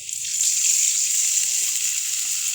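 Water poured into a pan of frying onions while cooking a chickpea curry, a bright hissing gush that swells in quickly and holds steady for a couple of seconds, close up and alone.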